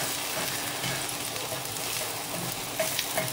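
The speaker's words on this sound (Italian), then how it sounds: "e io ho messo l'olio e la cipolletta a soffriggere" Oil and chopped onion frying in a pan, a steady close hiss of sizzling that stays even throughout with a few faint pops near the end.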